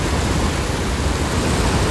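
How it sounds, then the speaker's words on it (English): Waterfall beside Highway 64, the Gorge Road, swollen after heavy rain: a dense, steady broadband rush of falling water, loud and close, unbroken with no voices. "here we are at the first waterfall"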